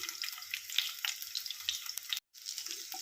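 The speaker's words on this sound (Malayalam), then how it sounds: "നമ്മൾ ഒഴിച്ച എണ്ണയൊക്കെ ചൂടായി വന്നിട്ടുണ്ട്. അതിലേക്കൊരു 4-5 കഷ്ണം വെളുത്തുള്ളി ഇട്ട് കൊടുക്കാം." Four or five halved garlic cloves are dropped into hot oil and sizzle with a steady, close crackling hiss that cuts out for a moment near the end.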